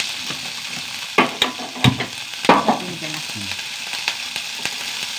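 Ten small shallots frying in hot oil, a steady sizzle broken by sharp metallic clinks and scrapes of a spoon against the pan, close and fairly loud, with no talking.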